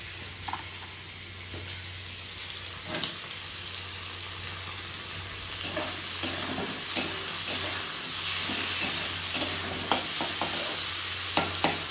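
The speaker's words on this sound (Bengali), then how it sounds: "একটু ভাজা হোক, তারপরে মশলাটা দিয়ে দেবো" Tomato and capsicum fry in a pan with turmeric, cumin and Kashmiri red chili powder, giving a constant close sizzle under a thin steady whine, with repeated clicks and scrapes of stirring.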